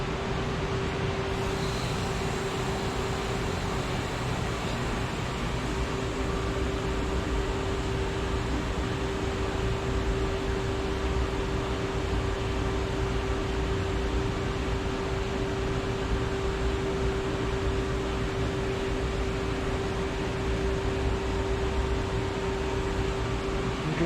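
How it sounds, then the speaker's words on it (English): A steady, even hiss as the pressure-release valve on a Rothberg evaporator is slowly opened, with a constant mechanical hum running beneath it for the whole stretch and no voices. "Now I'll slowly open this one, and you'll be able to hear the hiss"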